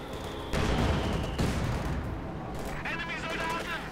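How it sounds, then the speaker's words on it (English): A mortar barrage in Company of Heroes 2 thumps and booms in a dense cluster of impacts over sustained battle noise, with a commentator talking over the action. "Using his mortar to secure territory"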